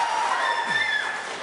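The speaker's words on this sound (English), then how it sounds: "let's please keep the applause down" Applause from a live audience at a televised Louisiana governor's debate, steady broadband clapping filling the whole moment without a pause.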